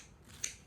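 Kitchen scissors snipping food at a meal, a single quick, crisp metallic snip, fairly faint and close, in an otherwise quiet room.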